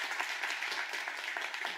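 Applause from a church congregation, a steady dense patter of many hands clapping together at moderate distance with no talk over it.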